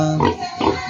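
A large-bodied pig, a sow meant for breeding, gives two close, loud grunts about half a second apart, with no talk over them.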